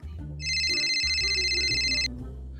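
A phone ringtone chirps in a bright repeating electronic pattern for under two seconds in an indoor comedy drama scene, loud and close over a low background hum.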